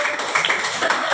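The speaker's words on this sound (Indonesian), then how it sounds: "Kasih tepuk tangan buat kelompok 3 dong." A classroom of students clapping for a student group after their presentation, a dense steady patter of many hands filling the short burst at moderate loudness.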